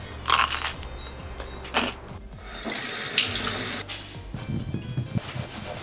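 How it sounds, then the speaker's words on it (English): Kitchen tap water splashes into a sink while grapes are washed, a loud rushing stream that comes in bursts with clatter and handling noises between flows. "I washed all these grapes really"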